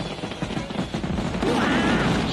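Animated fireworks burst in a rapid crackling volley like popping gunfire. Rising whistling tones join near the end as the loud barrage continues.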